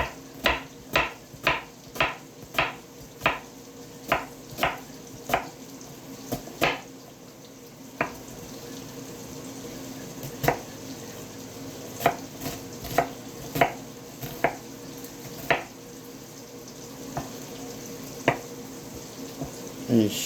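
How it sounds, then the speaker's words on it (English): An onion being chopped with a knife on a board: a quick run of evenly spaced sharp knocks, then a pause and sparser, irregular cuts, close and clear with no talking. "to cut up this onion."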